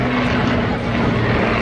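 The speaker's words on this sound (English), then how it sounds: "Now flying the Hurricane 2C" A Hawker Hurricane IIC fighter flies at a Battle of Britain Memorial Flight air show in Cleethorpes, producing a loud, steady propeller-engine drone that fills the moment without a break.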